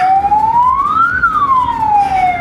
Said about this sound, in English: They don't give space for the ambulance.